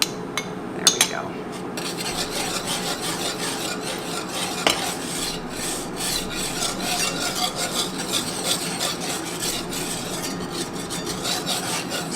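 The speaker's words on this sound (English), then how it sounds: "So we're just gonna whisk this together." A whisk stirs a sauce in a bowl in a home kitchen, a continuous scraping, rasping swirl with small clinks, close and alone, over a faint hum of an air fryer running nearby.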